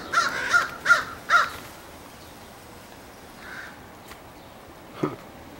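Young crows calling outdoors around trees near a house: three loud, harsh caws in quick succession, followed by fainter, more distant calls and short squawks against quiet background noise.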